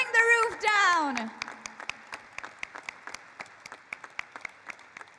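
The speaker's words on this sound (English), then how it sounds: "can we have a thunderous, thunderous round of applause and bring the roof down?" Applause from an audience at a stock exchange IPO listing ceremony, rising briefly under a speaker's voice and then thinning into scattered, distinct claps.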